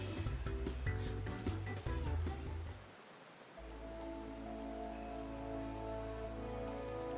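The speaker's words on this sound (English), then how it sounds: "Yeah, the rain kind of ruins the whole scene." Rain pours in Final Fantasy XIV during the Hatching-Tide seasonal event in the city, a soft continuous patter under layered game music that thins out halfway through.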